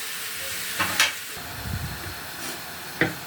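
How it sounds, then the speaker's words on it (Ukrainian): Mushrooms sizzle steadily in a hot pan, with a few sharp stirring scrapes and clatters cutting in. "обсмажуємо грибочки, я думаю, хвилин, мабуть, 10 ми їх будемо смажити"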